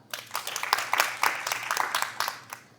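Scattered, uneven clapping from a studio audience voting in a fake-audio guessing game, with distinct individual claps and a thinner, patchier crowd sound rising and fading over a few seconds.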